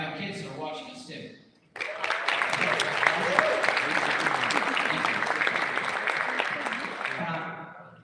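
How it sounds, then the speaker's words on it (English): An audience at a Barcelona networking event breaks into sustained applause after someone speaks briefly, the dense clapping holding steady for several seconds before fading. "And I want a round of applause for my 5 kids that are watching us too."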